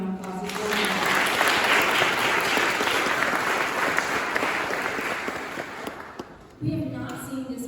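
An audience at a mental health awareness event in the Rhode Island State House gives dense, sustained applause, which fades near the end as a voice comes back in.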